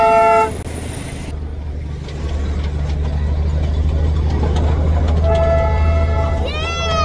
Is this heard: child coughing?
no